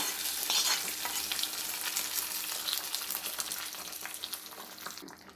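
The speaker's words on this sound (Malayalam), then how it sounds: "ഇതിനകത്തോട്ട് നമുക്ക് കടുക് വറുത്തതും കൂടെ ചേർത്ത് കൊടുക്കാം" Fried mustard seed tempering sizzles into a pot of Kerala fish curry with a steady, bright crackle and stirring, continuous and close, no voices.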